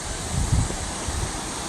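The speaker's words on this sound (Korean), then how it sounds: "시원한 계곡의 물소리입니다" Water rushes and splashes in a cool mountain valley stream, a dense, continuous broadband wash with low buffeting, close to the microphone and heard alone.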